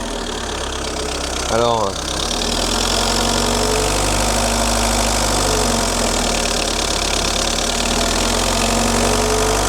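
A Citroën C15 van, long stored and in rough condition, idles with a steady low mechanical drone and some knocking vibration throughout, while a person speaks briefly near the start.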